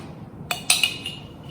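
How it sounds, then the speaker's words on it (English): Metal pan handled on a kitchen stove while ghee goes in for Gujarati mango kadhi, giving a few quick clinks and knocks of cookware, close and clear over a quiet room. "you take your pan and add ghee in it"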